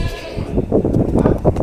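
A well-kept goat with a fringed coat bleats up close in a series of short, loud, quavering cries, with no talking over them.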